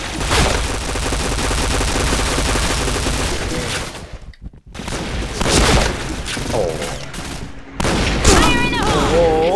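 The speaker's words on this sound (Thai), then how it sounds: "โดน MP7 ยิงหัวแตกครับ" Dense MP7 gunfire in the shooter Point Blank, loud and continuous with rapid bursts, broken by a brief near-silent gap before the shooting resumes alongside other game effects.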